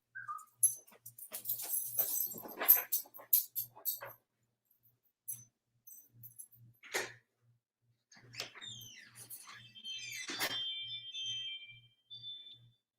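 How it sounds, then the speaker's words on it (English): A dog retches and vomits indoors, with repeated bursts of heaving and gagging separated by brief silences, some close and strained, plus a faint intermittent low electronic pulse in the background. "now they're barfing during my live"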